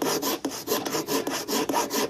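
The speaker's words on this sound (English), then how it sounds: "we're back to using the table saw as a bench for hand sawing?" Hand saw cutting through wood on a table saw used as a bench: steady rhythmic rasping strokes, about four per second, close and loud with no talk.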